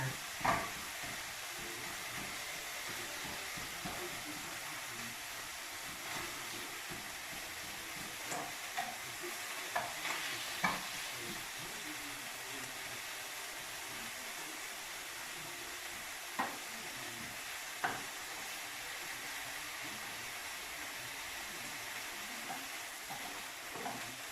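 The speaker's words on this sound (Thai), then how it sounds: "ผัดบะเขือใส่เนื้อใส่น้ำมันหอยใส่" Eggplant stir-fried with meat and oyster sauce sizzles and hisses continuously in a pan, with occasional sharp clicks of a utensil against the metal, close and without speech.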